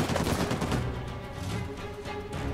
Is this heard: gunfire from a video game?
yes